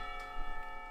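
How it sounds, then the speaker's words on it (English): A school lunch bell in the visual novel Katawa Shoujo rings with a sustained, bright metallic tone that hangs evenly without breaks. It is fairly soft and heard alone over a brief moment. "The lunch bell rings"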